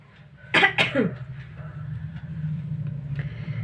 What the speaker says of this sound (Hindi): पहले खांस लो